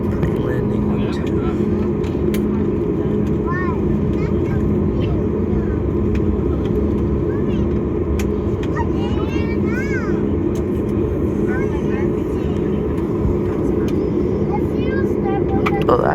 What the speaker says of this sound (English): Oh, plane taking off. And a plane landing